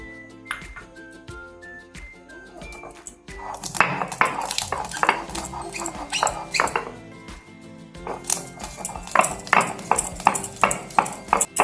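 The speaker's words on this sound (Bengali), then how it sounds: "এখন আমি ভাজা মশলাটা শিলে গুঁড়ো করে নেব।" Roasted spices being crushed on a stone grinding slab for an oil-free chicken curry, heard as repeated scraping and knocking strokes that grow busier and louder partway through, with scattered clinks and no talking.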